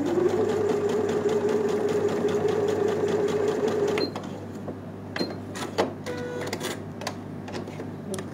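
A home sewing machine stitches patchwork fabric straight along a drawn line in a steady, close whir that stops partway, followed by faint clicks and handling of the cloth.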